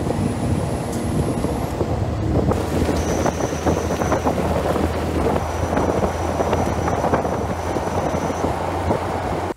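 A Jeep 4.0 engine leaks air around the butterfly valve of a bored throttle body, giving a steady, loud rushing hiss with a low engine rumble beneath it and a few thin whistling tones.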